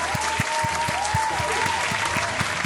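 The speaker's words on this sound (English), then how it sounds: "a huge round of applause" A crowd applauds steadily and densely, with a faint pitched tone gliding underneath through the whole stretch.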